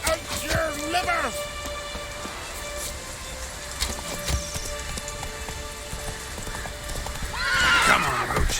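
Geralt's horse Roach in The Witcher 3: Wild Hunt, with loud neighs at the start and end over rhythmic hoof clip-clops, rain falling throughout, and a voice speaking in between.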